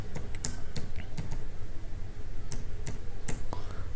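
Fingers type a password on a computer keyboard, a close, crisp series of irregular key clicks with short pauses between bursts.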